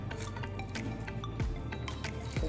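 Very hot water pours into a glass canning jar during bell pepper canning, a close, bubbling fill with small clinks and drips, no talking over it.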